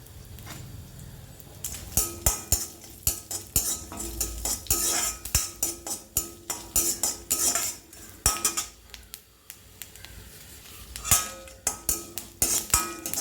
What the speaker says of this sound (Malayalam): ഇരുമ്പ് ചട്ടിയിൽ ഒരു സ്പൂൺ എണ്ണ ഒഴിച്ച് ആദ്യം നമുക്ക് ഇറച്ചി മസാല നമുക്ക് വറുത്തെടുത്ത് വയ്ക്കാം